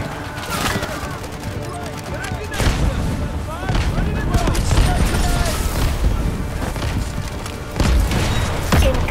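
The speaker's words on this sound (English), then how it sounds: "Incoming artillery." Artillery blasts and rifle fire in the Delta Force video game: deep booms land among steady gunshot bursts at close range, with voices shouting over the din.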